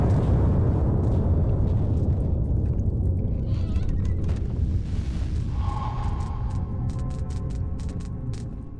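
In the horror game Amnesia, an orb destroys a portal with a loud, rumbling explosive roar that fills the whole stretch and slowly thins out, with no talk over it.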